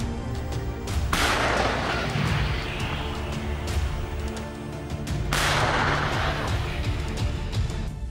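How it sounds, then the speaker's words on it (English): Violent blast from a US-designed Javelin missile destroying a Russian T-90 tank in Ukraine, heard as two heavy, loud booms roughly four seconds apart, each bursting into broad rumbling noise with no talking. "debris is thrown high into the air above as the Russian tank is torn into shrapnel in a violent blast."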